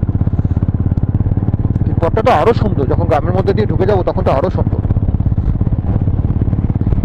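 A motorcycle rides the road toward Darjeeling with a steady, close, throbbing engine hum that holds for the whole stretch, while the rider talks over it midway.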